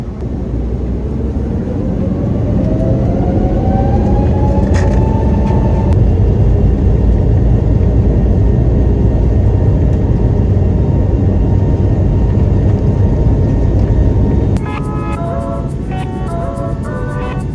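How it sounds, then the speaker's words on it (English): JetBlue Airbus A321LR jet taking off from runway 13 at JFK, a loud steady engine roar heard from the cabin with a rising turbine whine, ending in a brief chime. "please enjoy our takeoff from runway 13 right here at JFK"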